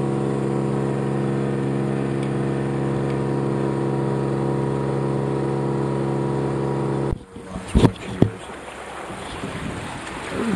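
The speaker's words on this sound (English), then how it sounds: "Sorry for the motor noise, guys." A sailboat's motor drones steadily with a strong humming tone in the Gulf Islands, then cuts out abruptly, leaving wind buffeting and a few sharp knocks and splashes.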